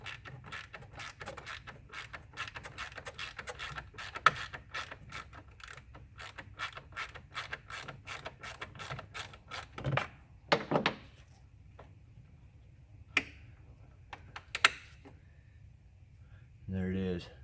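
A ratchet backing out a T25 screw on a 2003 BMW 330ci, with a fast, steady run of close clicks, then a few isolated clacks and knocks of the tool.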